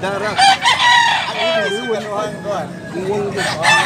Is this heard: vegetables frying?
no